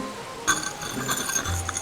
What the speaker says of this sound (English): I'll try to cut a hole in the glass.